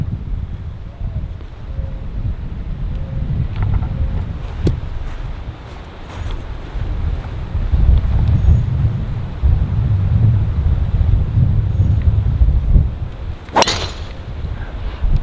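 Strong wind gusts across an open golf course, a steady low rumble buffeting the microphone for the whole stretch, with a brief sharp crackle near the end and no talk.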